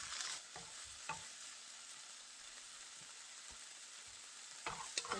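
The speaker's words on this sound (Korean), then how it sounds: "뭘 볶느냐? 뭘 볶아요? 고사리예요, 고사리." Bracken fern (gosari) stir-fried in a frying pan, with a steady sizzle and scattered stirring scrapes and clicks at close range, plus a few louder knocks near the end; no talking.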